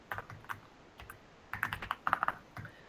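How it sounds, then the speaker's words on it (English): Typing on a computer keyboard while working in a code editor: irregular bursts of close, crisp key clicks, sparse at first and then quicker and denser, with no talking. "In the VS Code I am typing."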